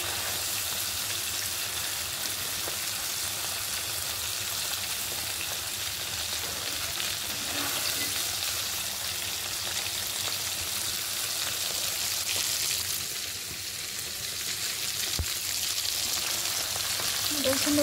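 Food frying for a cashew paneer curry in a pan of hot oil gives a steady, close, even sizzle with a faint crackle that runs the whole time, with no voices.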